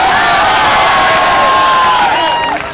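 Large crowd at a political rally in Delhi cheering and shouting loudly, a dense sustained roar of voices with whoops that carries steadily for a few seconds before easing slightly at the end.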